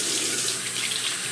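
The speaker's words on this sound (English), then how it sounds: "you gotta wash the hands" A bathroom tap runs hard as hands are washed beneath it, a loud, steady splashing rush of water filling the short span with no voices.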